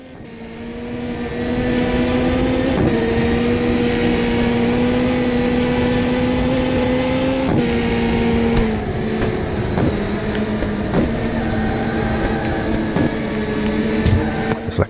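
A racing car's engine from Test Drive: Le Mans on Dreamcast drones at steady high revs, holding a buzzing pitch with a few abrupt gear-change shifts, loud and close with faint clicks over it.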